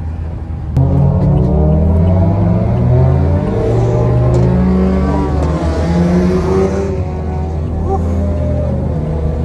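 A Toyota Innova with a biturbo setup accelerates hard, its engine drone loud and steady with rising harmonics throughout, heard from inside the car.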